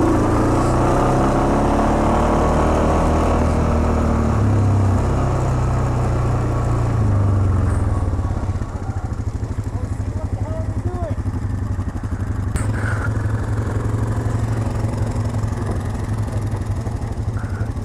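ATVs, including a Can-Am Outlander and a Yamaha Grizzly, on trails: a steady engine drone close by with a deeper revving surge early on, then a lower idle-like hum, while someone talks over it.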